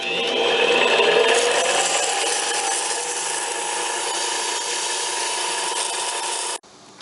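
Metal boba straws are worked with 150 grit abrasive, giving a steady, loud rasping and grinding that holds for about six and a half seconds and then stops abruptly.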